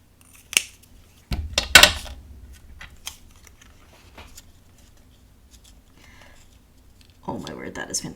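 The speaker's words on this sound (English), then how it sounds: "Just a little bit of a trim." Paper is trimmed with scissors during a mixed-media craft project. A few crisp snips and rustles sound close by, separated by quiet gaps, with handling noise near the end.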